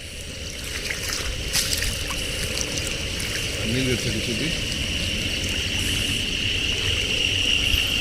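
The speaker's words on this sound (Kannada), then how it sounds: "ಕಾಲುವೆ ಬಿಟ್ಟು ಜಮೀನುಗಳ ಮೇಲೆ ನೀರು ಹರಿತಾ ಇದೆ" A constant wash of rainwater overflowing a canal and running across farm fields, with faint indistinct voices and a brief tonal murmur partway through.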